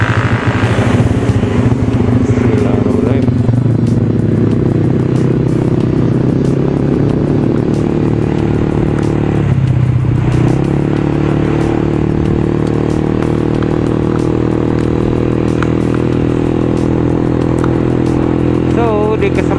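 A Yamaha X-Ride 2015 modified automatic scooter engine runs close and loud, droning steadily, dipping briefly midway and then resuming its even hum, with a voice speaking over it at times.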